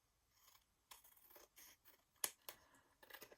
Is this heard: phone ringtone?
no